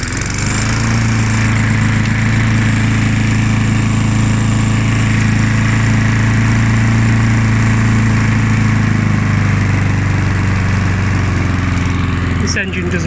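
A Mountfield M4 petrol lawn mower engine runs steadily and loudly throughout, a constant droning hum with a brief change in pitch near the end.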